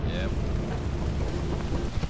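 Steady rain with thunder rumbling in the video game Lethal Company, a dense continuous wash of rainfall and low rolling thunder, loud and unbroken across the whole stretch.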